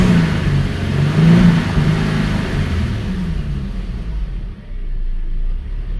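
An Infiniti G37 engine idling close by, a steady low rumble with a slight rise early on that settles and fades toward the end.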